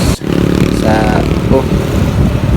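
A Honda Wave motorcycle with a loud open pipe roars close by on a short road, a constant raspy engine drone with brief clattering, while someone speaks over it.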